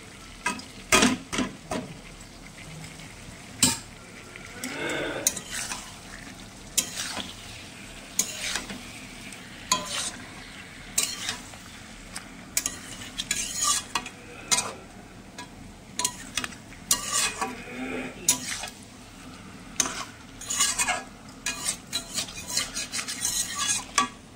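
Fish sizzles steadily in hot oil in a pan, with scraping and clinking of a utensil stirring and turning the pieces throughout.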